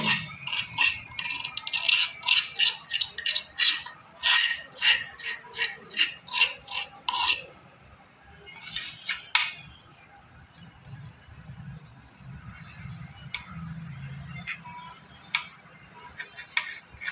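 Spoon stirring curd raita with garlic chutney in a bowl, a run of quick close scraping clicks and taps that fades into softer, sparse stirring.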